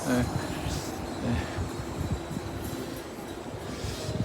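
A train at Blue Line Park in Busan rumbles on in a low, continuous roll with faint rhythmic thumps of the running gear, close and steady, as people talk over it.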